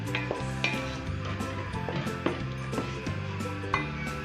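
Raw mango simmers in sugar in a pan on the stove for chutney, a steady bubbling sizzle broken by repeated light metallic clinks and scrapes of stirring, close up and without talk.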